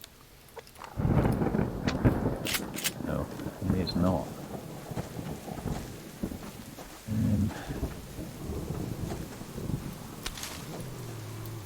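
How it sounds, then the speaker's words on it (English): Rain falls steadily with rumbles of thunder in a survival video game, while a few people talk over it and occasional sharp crackles break through. "It's raining."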